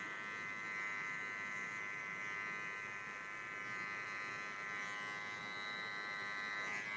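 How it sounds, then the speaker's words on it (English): Electric hair clippers buzz steadily and close by, run clipper-over-comb through short hair during a haircut, with a constant high-pitched whir and no talking. "I'm cleaning it up using clipper over comb"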